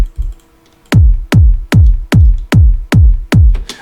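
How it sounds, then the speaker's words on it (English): Hardpsy-style top kick drum programmed at 150 BPM, a punchy electronic kick hitting seven times in a steady rhythm after a short opening hit, each with a sharp click and a pitch-dropping, booming low tail. "the first thing that you need is a crazy top kick"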